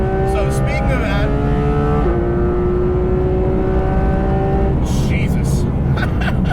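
A Porsche 991.2 GT3 RS engine screams at high rpm, rising through gears in long climbing notes with sharp shifts, loud and close, while a person talks over it.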